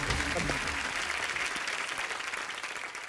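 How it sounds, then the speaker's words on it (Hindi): An audience gives hearty applause at a comedy stage show, steady dense clapping that stays full from start to finish with a voice faintly underneath. "एक बार जोरदार तालियां हो जाएं।"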